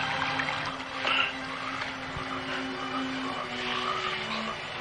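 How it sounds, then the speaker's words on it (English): Frogs croak at dusk in a faint, steady chorus of drawn-out tones that continues throughout. "Hear those frogs croaking?"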